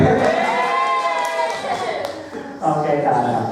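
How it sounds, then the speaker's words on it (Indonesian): Teachers in a motivational training session burst into another short round of clapping and cheering, loud and close, that fades and then rises again while a voice talks over it. "Tepuk tangan sekali lagi boleh?"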